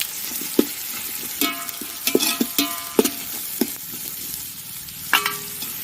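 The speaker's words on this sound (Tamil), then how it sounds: "வெங்காயம் நல்லா பொன்னிறமாக வதக்கட்டும்" Onions sautéing until golden in a pan with bay leaves, cloves and cinnamon for a village-style country chicken biryani: a loud, continuous sizzle with repeated clinks and scrapes of a ladle stirring against the metal.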